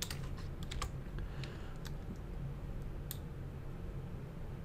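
Rapid light clicking of fingers typing on a computer keyboard, close and fairly quiet, a steady patter of keystrokes with short pauses, no voices.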